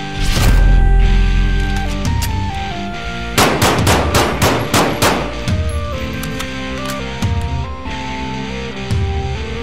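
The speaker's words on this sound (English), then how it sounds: "And we'll be shooting some actual rifle rounds today." Rifle rounds fired at a pair of cheap 3A body armor plates taped together, a series of sharp, loud outdoor shots in a quick volley with ringing between them, heard alone.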